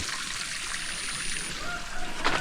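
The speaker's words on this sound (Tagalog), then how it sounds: "lalagyan po ng tubig" Water is poured from a container onto garden soil for a home garden, a steady soft trickle and splash running continuously at close range with no talk.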